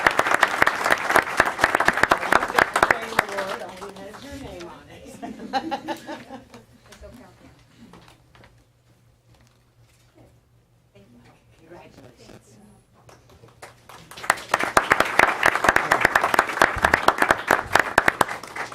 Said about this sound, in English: Let's give a big round of applause for Marcela.